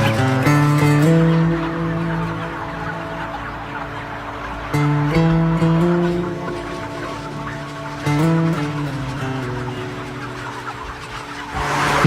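Dense crowd of chickens packed in an intensive poultry barn, a continuous layered chorus of clucks and drawn-out calls with periodic louder swells, close and steady throughout.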